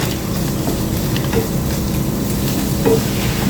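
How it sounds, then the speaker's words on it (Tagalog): Continuous close-up sizzling of beef frying in a hot pan, steady and crackling, with faint stirring. "Prito-prito muna, hindi pa tapos."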